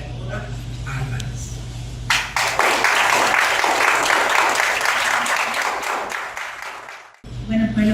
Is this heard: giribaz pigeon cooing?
no